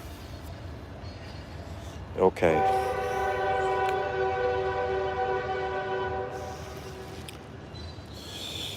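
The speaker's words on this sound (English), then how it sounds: "there goes the train" A passing train sounds its horn: a sharp clank, then a loud sustained multi-tone blast lasting several seconds over rumbling track noise outdoors near a garden, with a brief spoken word nearby.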